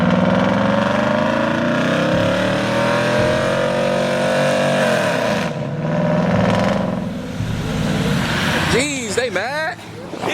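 Lifted 2016 GMC Sierra pickup on a 10-inch lift kit with 26x14 wheels, its engine roaring and revving hard through a burnout, rising and falling in pitch, loud and close, with people talking over it.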